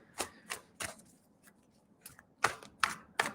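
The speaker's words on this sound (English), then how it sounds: "I'll give these cards a good shuffle for you." Tarot cards are shuffled in a series of crisp, riffling bursts and light taps, close and fairly quiet.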